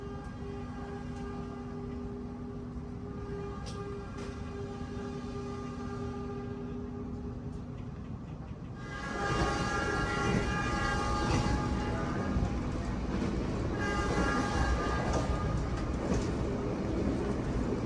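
The KA Harina executive train pulls out of Cikampek station, heard from inside the carriage as a steady rumble with humming tones that swells louder and rougher as it gathers speed, with faint rail clatter.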